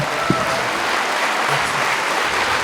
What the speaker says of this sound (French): une ovation pour Boudère